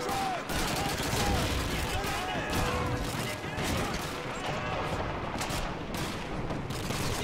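Sustained gunfire from Call of Duty 2, the British campaign battle for Caen, with rapid overlapping shots and explosions throughout and shouting voices mixed in.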